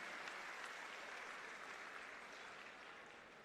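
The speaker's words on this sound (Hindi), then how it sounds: "हम सब जोरदार तालियों से" Applause at an MCD staff job-card ceremony in Delhi, a fairly soft, steady wash of clapping from the audience that gradually fades over a few seconds.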